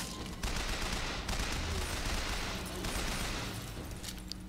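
Dense bursts of gunfire from the video game BioShock Infinite crackle and roar almost nonstop, loud and close, with brief breaks between volleys.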